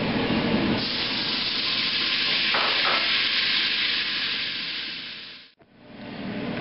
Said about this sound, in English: We're going to add our onion and our garlic